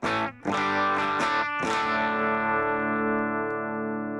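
A distorted electric guitar plays through a Greenback speaker cabinet impulse response blending 57 and 121 microphones, with a few choppy chord stabs before one chord rings out long and sustained.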